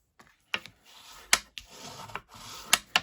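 Scored cardstock being folded and burnished by hand, giving soft rubbing strokes and a few sharp creasing snaps spaced across the stretch, close and fairly quiet with no talk.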